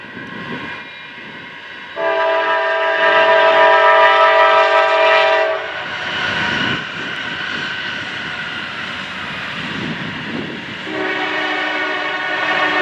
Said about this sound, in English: Pretty sure that's our train coming from Chattanooga.